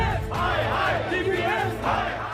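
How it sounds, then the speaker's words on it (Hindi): Parents protesting arbitrary fee hikes at DPS school in Rohini, carrying placards and posters through Delhi streets, raise a loud, continuous crowd roar of chanting and shouting voices up close, swelling and dipping throughout. "दिल्ली की सड़कों पर हाथों में प्ले कार्ड और पोस्टर के साथ प्रदर्शन करते ये वो मजबूर अभिभावक हैं"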